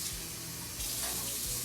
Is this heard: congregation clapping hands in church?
no